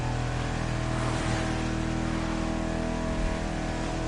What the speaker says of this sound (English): let's listen to this engine. This is nice.